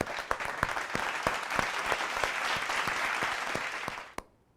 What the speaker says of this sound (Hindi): मैं चाहता हूं आप जोरदार ताली स्वागत करें